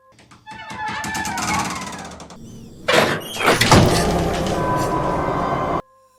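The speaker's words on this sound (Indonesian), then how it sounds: "mendengar suara pintu terbuka di ruangan altar" An old door in a house's altar room creaks and scrapes open in two loud, drawn-out movements with rattling, ending abruptly into silence.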